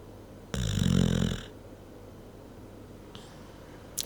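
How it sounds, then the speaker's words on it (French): A single loud, rasping snore lasting about a second, followed by quiet breathing and a faint snort near the end. "Mais d'abord, un petit point ronflement."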